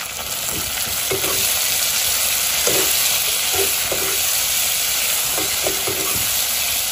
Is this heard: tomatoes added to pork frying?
yes